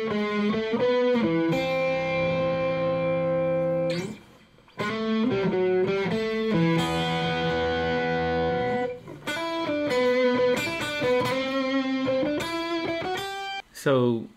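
Distorted electric guitar through an amp-modeling plugin with no delay or reverb plays sustained chords and phrases with brief pauses, a thick saturated tone, dry and up close.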